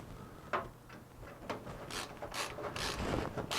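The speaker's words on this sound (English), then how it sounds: "It needs 2 screws to hold it in" Close, quiet clicking and ratcheting of a screwdriver driving small screws while a PC is being built, with irregular rubbing and grinding bursts that grow busier toward the end.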